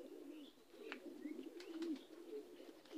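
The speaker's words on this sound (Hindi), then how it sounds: "अभी खबूतरों की वीडियो बनाते हैं" High flyer pigeons coo softly in a loft, a continuous low burbling murmur of overlapping coos with a few faint chirps, fairly quiet and close, with no talking.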